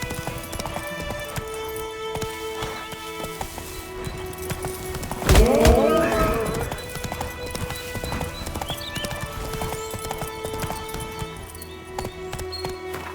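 Roach, the horse in The Witcher 3: Wild Hunt, pounds along in a rapid clip-clop gallop, breaking into one loud, close whinny midway before the hoofbeats carry on steadily.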